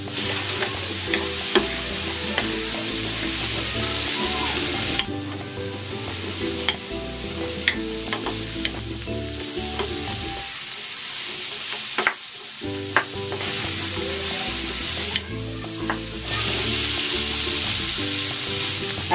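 String beans (sitaw) sizzling loudly as they are sautéed in a pan, with steady frying hiss and repeated scraping stir strokes throughout, no talking.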